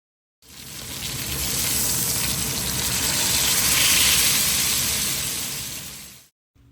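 A bottom round roast sears in a hot cast iron skillet. The sizzle is loud, close and steady, swelling slightly over several seconds before cutting off abruptly, with no talk.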